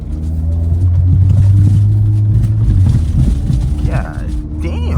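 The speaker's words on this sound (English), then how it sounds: "sound of this car, bro" BMW E46 M3 engine accelerating, a loud low engine rumble that rises and falls while driving, close, with a brief voice and a short whine near the end.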